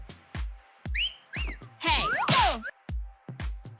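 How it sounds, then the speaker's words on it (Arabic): A person whistles a few short melodic notes and rising and falling swoops, with a busier warbling passage in the middle, set against a steady series of sharp percussive thumps. "نعرض لكم اليوم كيف تصفر."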